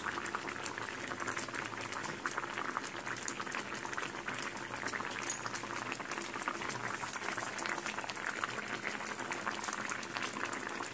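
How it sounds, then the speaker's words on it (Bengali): Pot of vegetables for dudh shukto boiling on the stove, a steady bubbling simmer that stays even and continuous throughout with no talk. "ফুটছে।"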